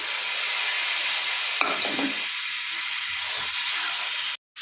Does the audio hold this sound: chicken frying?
yes